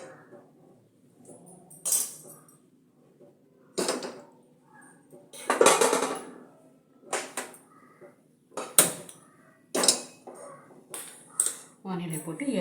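A kadai (wok) is set down on a home kitchen stove, giving several sharp metallic clanks and clinks of cookware spread in bursts over the span, close and fairly loud against a quiet room.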